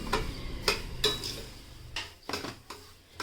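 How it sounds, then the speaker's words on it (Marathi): Semolina and dry fruits being stirred and roasted in ghee, a spoon tapping and scraping the pan in several distinct clinks over a quiet sizzle, close and without talk. "आपण आता मस्तपैकी ड्रायफ्रूट्स आणि रवा तुपामध्ये चांगला परतवून घेऊयात"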